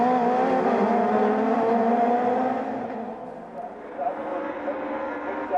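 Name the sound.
touring race cars driving, BMW in the race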